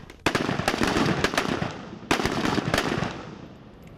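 Gunfire at an Elite Police Training School firing practice, two loud bursts of rapid shots a couple of seconds apart, each followed by a lingering rumbling wash of echo.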